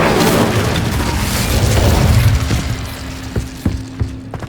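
A fiery spell cast in the video game Hogwarts Legacy bursts with a loud booming whoosh, then fades into a few sharp clicking taps.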